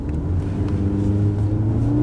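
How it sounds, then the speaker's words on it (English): A car accelerates at full throttle on snow during a tyre braking test, a steady loud engine drone with rising tonal bands holding throughout, close and continuous with no talk. "Clutch up and then full throttle"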